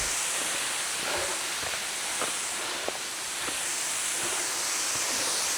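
Waterfall on a hiking trail in Bulgaria, a constant broad rushing hiss of falling water heard up close, with a few faint footsteps or knocks scattered through it.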